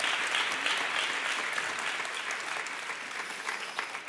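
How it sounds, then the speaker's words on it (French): Studio audience on the French game show Les 12 Coups de Midi breaks into steady, dense applause that holds at full strength throughout, with no voices over it. "Je voudrais qu'on applaudisse, s'il vous plaît,"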